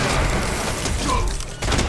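Rapid gunfire bursts from a DMR rifle in a Fortnite Zero Build solo match, loud and dense with booming reports packed close together, filling the whole moment without any speech.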